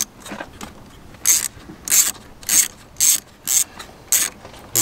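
A ratchet clicks in six short, crisp bursts while undoing a bolt during a short shifter install on a Vauxhall Corsa VXR Nurburgring, heard up close with quiet pauses between strokes.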